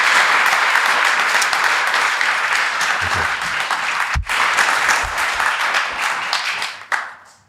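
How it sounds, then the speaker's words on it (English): Live podcast audience applauding guests after they finish, a loud, steady wash of clapping from a crowd that briefly dips and then fades out at the end. "Give them all a big round of applause, folks."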